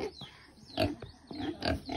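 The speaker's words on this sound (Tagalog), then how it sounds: "Meron mga baboy." Several pigs grunt and oink close by in a rapid, overlapping series of rough snorts, with no talking.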